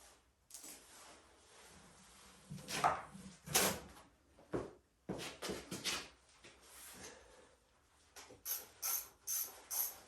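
Ratchet wrench working the oil pan bolts loose underneath a CJ2A Willys Jeep, quiet bursts of clicking ratchet strokes with pauses between, ending in a quick run of evenly spaced clicks, close up and without talk.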